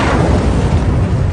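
Nuclear bomb explosion in a city, a continuous heavy low roaring blast with dense rumble, loud and unbroken throughout.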